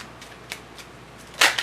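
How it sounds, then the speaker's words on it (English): A Hanson Roberts tarot deck being shuffled by hand: faint, scattered card flicks early on, then one louder, close riffling burst near the end, with no voices. "Now let's shuffle up for the second deck"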